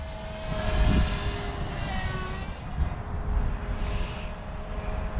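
A Blade 360 CFX radio-controlled helicopter buzzes overhead during hard aerobatic flying, its motor whine and rotor chop swelling and fading as it maneuvers, with gusty low rumbles.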